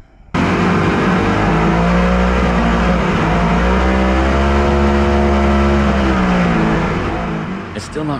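A Savage 1100 jet boat engine with carburetors runs steadily and loudly, a thick harmonic drone that holds at a constant pace for about seven seconds before easing off slightly at the end.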